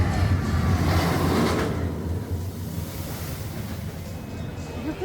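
Water spraying and splashing across the soaked splash zone of the SheiKra roller coaster at a theme park, a loud, steady rushing wash that swells early and then settles into a constant hiss with wind buffeting the microphone.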